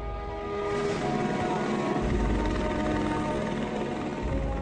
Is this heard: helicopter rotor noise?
yes